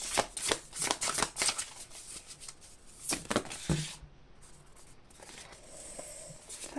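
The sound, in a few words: shuffling tarot cards for a reading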